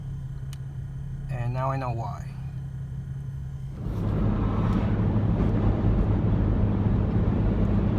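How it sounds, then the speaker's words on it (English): Interior hum of the speaker's wife's car while driving, a steady low engine and road drone that gets noticeably louder partway through, with someone talking over the first part. "I'm driving wifey's car"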